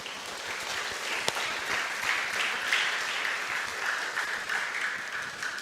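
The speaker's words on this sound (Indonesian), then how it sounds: "boleh kita tepuk tangan" Congregation applause after a Sunday school children's choir performance at an HKBP church service, steady sustained clapping from many hands filling the room, with no voices over it.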